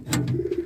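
A brief stretch of pigeon cooing, a low warbling murmur close at hand with a couple of faint scuffs over it.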